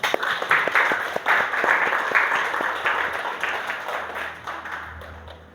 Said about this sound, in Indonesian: Tepuk tangan untuk anak-anak semuanya